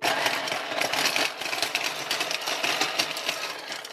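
A SilverCrest SMZ 260 mini chopper, a 260 W Lidl kitchen appliance, runs with a steady, dense motor whir that stays loud and close for the whole stretch, with no talking.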